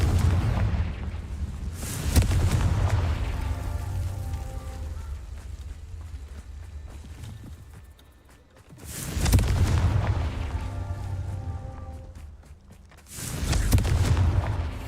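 Confringo blasting-spell explosions in Hogwarts Legacy, three loud booming blasts spaced several seconds apart, each with a broad rumbling burst that decays into a crackling tail.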